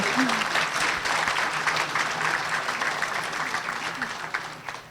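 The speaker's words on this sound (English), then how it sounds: "Let's do a round of applause." An audience at a nurse pinning ceremony claps in sustained, moderately loud applause that fades slightly toward the end, with a few faint voices mixed in.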